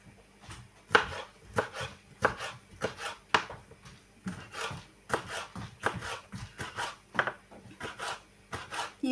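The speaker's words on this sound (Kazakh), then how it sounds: "мен екі тәтті бұрышты турап жатырмын" Knife chopping two sweet peppers on a board, a run of sharp evenly spaced cuts, close and crisp, with brief pauses between bursts and no talk.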